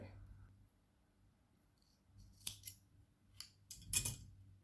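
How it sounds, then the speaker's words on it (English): Scissors cut yarn while an amigurumi carrot is finished in crochet, giving a few quick, close, crisp snips near the end against a quiet background. "Cut the yarn."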